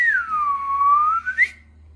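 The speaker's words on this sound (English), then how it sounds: "I tried to whistle, it failed." A person whistles one loud, close, sustained note that dips down in pitch, rises back up and breaks off with a short breathy squeak, with no other sound around it.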